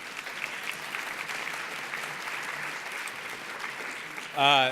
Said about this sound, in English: Another round of applause for the first panel, please.